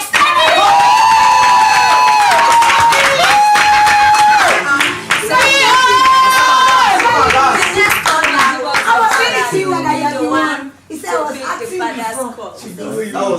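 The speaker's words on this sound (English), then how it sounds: "a round of applause for gospel" Loud, dense applause and clapping from a crowd at a presidential candidate debate, sustained for many seconds with cheering and voices mixed in, thinning briefly near the end before picking up again.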